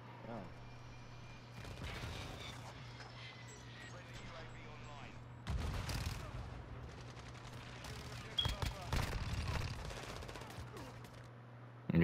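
Modern Warfare 2 gunfire rattles in rapid automatic bursts with shots and impacts. It fades down, then surges again in louder volleys over game ambience and voices.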